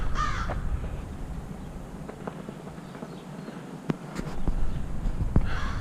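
Crows caw outdoors in an open setting where small wildlife lives, with harsh calls scattered across the stretch, a couple of sharp ones standing out near the end, over a low steady background rumble.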